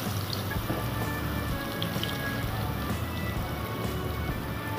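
Cut eggplant frying in hot oil with nigella seeds gives a dense, even sizzle and crackle, steady and close throughout, with no voices.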